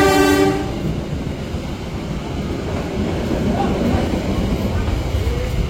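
Another train passes while the Airlangga passenger train waits at a crossing point, with a horn blast at the start followed by a steady rumbling, clattering roar of wagons close by.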